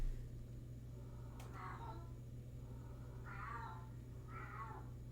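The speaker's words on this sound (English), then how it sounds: "You can probably hear my cat in the background." A pet cat meows in the background three times, mid-pitched and fairly distinct, over a steady low hum, the calls spaced a second or two apart.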